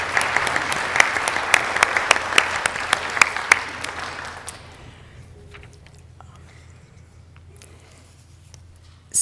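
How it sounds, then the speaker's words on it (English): At a coronavirus panel event, a room audience gives the organizers a round of applause: a few seconds of moderate clapping with sharp individual claps that dies away quickly into quiet room noise with faint scattered sounds. "let's give them a round of applause for getting everybody together."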